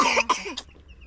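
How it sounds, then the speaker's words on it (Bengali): A young girl coughs twice in quick, sharp bursts close by, the second trailing into a soft throaty sound before quiet. "এই তো কাশি হচ্ছে, মানে ঠান্ডা লেগেছে মনে হয়।"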